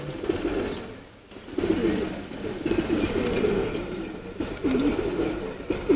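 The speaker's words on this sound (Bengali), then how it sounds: "আর দেখেন কবুতরগুলো" Racing homer pigeons coo repeatedly in a loft, steady low throaty calls close by with a little background speech.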